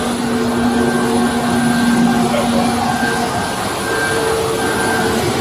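Airliner engines give a steady, loud roar and hiss heard from inside the cabin of a parked or taxiing passenger plane, unbroken for the whole stretch.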